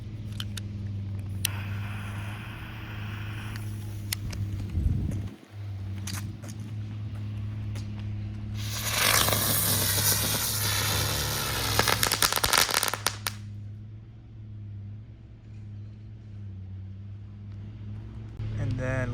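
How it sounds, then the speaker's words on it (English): A Sky Bacon Ground Bloom Flower firework with a Crackle Bomb erupts over a steady low hum, giving a loud, dense burst of hissing and crackling that lasts about four seconds before dying away. "ground bloom flower with Crackle Bomb by Sky Bacon"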